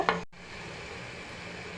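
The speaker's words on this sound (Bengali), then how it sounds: "শাপলাগুলোকে ভালোভাবে মশলাগুলোর সাথে নেড়ে ছেড়ে কষিয়ে নিলাম" Water lily stems being stirred and sautéed with spices in a pan, a soft scrape at the start followed by a steady, fairly quiet sizzle with no talking.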